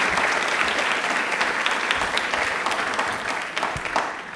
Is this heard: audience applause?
yes